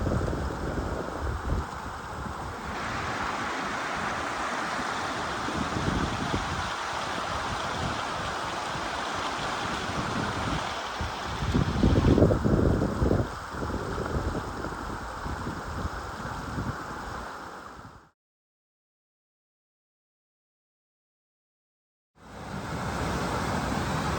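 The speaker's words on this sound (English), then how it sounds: "This beck running down through Lingmel into Wastwater." A beck tumbles down a Lake District fellside toward Wastwater, giving a steady rushing water noise close by, with brief gusts of wind on the microphone; the sound cuts out briefly near the end before resuming.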